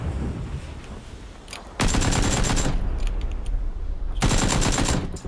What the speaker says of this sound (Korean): 이 총소리 뭐야?